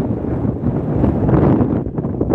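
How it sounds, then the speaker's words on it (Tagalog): Strong outdoor wind buffets the microphone in a loud, continuous low rumble that swells and dips without letup. "masyadong windy"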